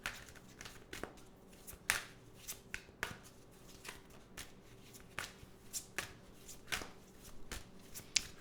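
Tarot cards shuffled by hand in a quiet room: a steady series of crisp riffling slaps and snaps, close and fairly soft, with no talking.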